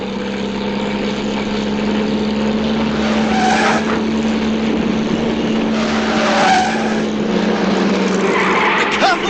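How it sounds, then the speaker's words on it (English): A car driven fast in a 1983 animated film of The Wind in the Willows, a loud steady engine roar with repeated squealing, skidding tires, close and continuous. "Fancy a washerwoman driving a car so well."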